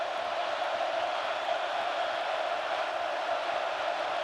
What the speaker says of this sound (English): this Oregon crowd gets on its feet